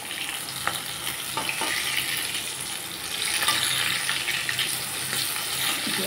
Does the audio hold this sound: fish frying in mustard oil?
yes